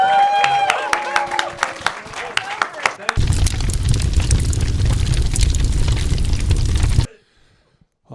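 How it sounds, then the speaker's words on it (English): Audience applause at a New York roast battle comedy show, starting with scattered claps over music-like tones, then swelling into a loud, dense roar of clapping and crowd noise for several seconds before cutting off abruptly. "Clap it up for the boys"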